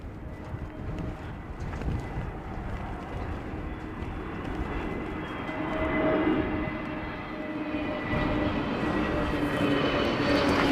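A plane landing into strong wind at London Heathrow Airport, a steady broadband engine roar with wind rumble that swells around the middle and stays loud to the end, with no talk.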